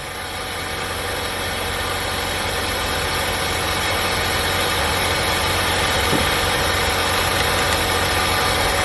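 A 1999 Honda Civic SOHC engine idles with the radiator being refilled with coolant after a thermostat replacement, a steady, continuous hum and vibration close by, unchanging throughout with no talking.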